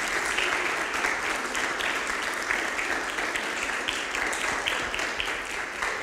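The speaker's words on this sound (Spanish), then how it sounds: "le damos un aplauso de bienvenida ahí" Applause from a church congregation welcoming visitors fills the room, a sustained wash of many hands clapping at moderate volume throughout.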